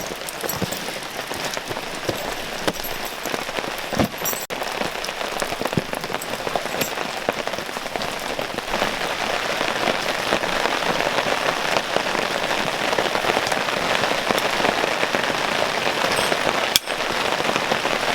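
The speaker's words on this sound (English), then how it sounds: "as you can see, it's raining" Steady rain pattering on a surface at Pouto Point, New Zealand, a dense continuous hiss of drops throughout, with a sharp tap or two standing out near the end.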